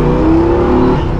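A 1978 Pontiac Trans Am engine revs loud and close, holding a steady rising drone for about a second before easing off.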